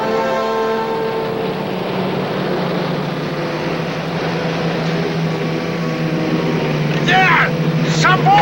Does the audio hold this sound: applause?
no